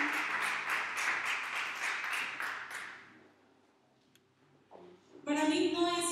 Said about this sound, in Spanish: Dele fuerte un aplauso al Espíritu Santo de Dios.